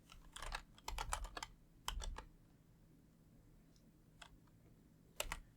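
Typing on a computer keyboard while entering Spanish accented characters: short bursts of rapid, close keystroke clicks separated by quiet pauses, with no talking.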